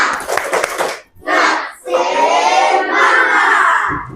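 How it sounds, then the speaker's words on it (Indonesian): A classroom of students doing a rhythmic spirit clap, loud close bursts of clapping and group shouting in short patterned phrases separated by brief gaps. "Mari kita coba tepuk semangat 2,"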